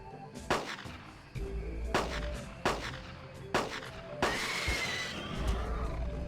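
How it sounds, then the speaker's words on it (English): Several sharp revolver gunshots ring out in the Carnivores hunting game, spaced irregularly over a constant ambient game rumble, with a louder burst and fading reverberation near the end. "the revolver does its job and drops the Dilo just a few feet from my face"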